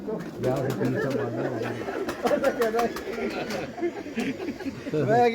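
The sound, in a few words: pigeons on a rooftop breeding setup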